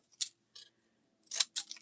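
Scissors snip paper for a journal, a few quick crisp cuts up close, two separated by a short pause and then a closer cluster of snips, against near silence with no talking.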